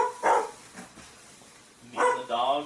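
A dog barks indoors, one sharp bark near the start and then a second, longer burst of barking toward the end, with quiet between.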